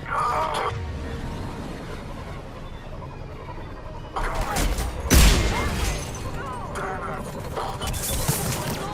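Turret gunfire and blasts in the video game Mass Effect 3, coming as loud bursts and crashes over a steady combat din, with a heavy impact about halfway through and a voice talking over parts of it.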